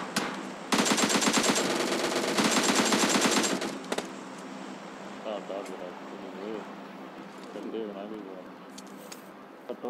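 Sustained automatic gunfire in PUBG Mobile, loud rapid bursts for about three seconds, then quieter scattered shots with a voice talking underneath.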